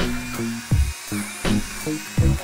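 A Bosch cordless mini chainsaw whines in short, close bursts, about four rapid revs that start and stop in quick succession, each one winding up and cutting off abruptly.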